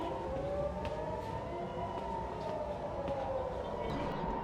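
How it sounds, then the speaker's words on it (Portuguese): An air raid siren wails over Tel Aviv, a steady faint rising-and-falling tone carried from a distance and sustained throughout, with scattered soft clicks and street noise but no talking. "a sirene já toca em 1 minuto e meio"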